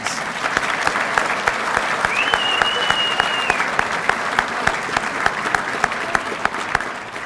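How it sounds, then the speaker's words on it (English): An audience at a hall of fame induction ceremony claps steadily throughout, a sustained, even patter of many hands at moderate distance, with a faint tonal whistle-like line briefly rising above it. "some of you are clapping"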